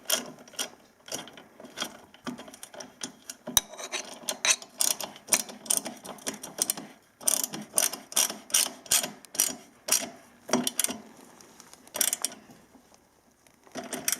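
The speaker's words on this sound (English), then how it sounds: "Make sure your wrench is tightening, and go ahead." A ratcheting wrench tightens the exhaust bracket bolt on a LEXX MXe dirt bike exhaust, giving repeated quick clicking ratchet strokes in rhythmic bursts, close and clear, with brief pauses between sets.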